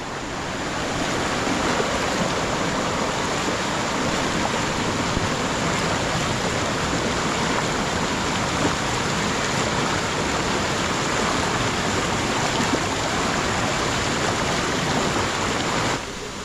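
A cold mountain spring stream from the Sierra Madre rushes steadily in a dense, unbroken hiss, close and fairly loud, with no voices over it.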